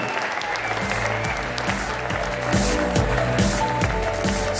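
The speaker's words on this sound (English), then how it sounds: "round of applause to Sebastiaan Hofman, everyone" A crowd claps steadily at a squash league match in a stadium, dense applause that swells a little louder partway through, with no voices standing out over it.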